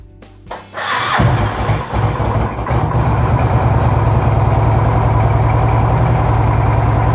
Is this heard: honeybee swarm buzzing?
no